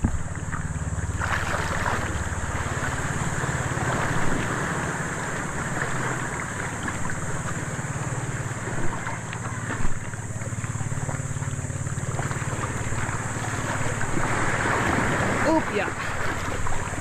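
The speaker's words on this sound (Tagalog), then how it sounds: "Uy, alon!" Ocean waves wash onto a sandy shore in a steady, close, rushing surge that runs the whole time, with a voice or two speaking briefly over it.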